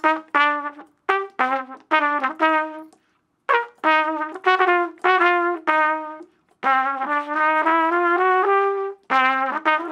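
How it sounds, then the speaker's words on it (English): A trumpet plays a series of short and sustained notes, bright and clear, in phrases separated by brief pauses, with no talking. "Trumpet sounds like this."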